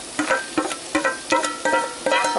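Vegetables sauté in olive oil and butter in a pot, giving a run of close, rhythmic stirring scrapes and soft sizzles, about six sharp pulses in quick succession with no talking.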